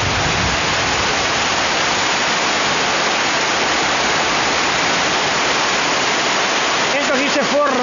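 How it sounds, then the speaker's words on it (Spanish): Heavy rainwater from a downpour in Vinces rushes through a drain, a loud, steady broadband roar that holds without a break from start to end. "aquí se forma una especie de río y el agua corre"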